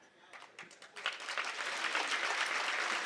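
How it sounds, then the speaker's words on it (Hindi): Scattered claps from an audience at a comic poetry recital quickly swell into full applause, starting sparse and distant, then building to a steady, dense clapping that holds to the end. "ताली यहाँ नहीं बजानी थी"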